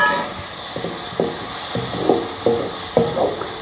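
Onions and tomatoes fry in a pan while a spoon stirs them, giving about eight rhythmic scraping strokes over a soft background sizzle.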